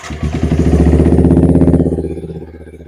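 Yamaha R15 V3 single-cylinder motorcycle fitted with a new aftermarket exhaust, cranking and firing up into a loud, close, rapid pulsing idle that settles and eases toward the end.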